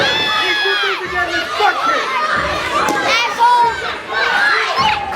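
A crowd at an independent wrestling event shouts and chants continuously in a lively hall, with many voices layered together and cheering swelling and ebbing throughout.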